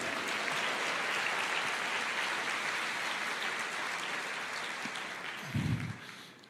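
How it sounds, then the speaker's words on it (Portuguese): A church congregation applauds steadily and loudly, a dense wash of clapping that fades toward the end, with a brief low thump near the close. "Você pode aplaudir o Senhor"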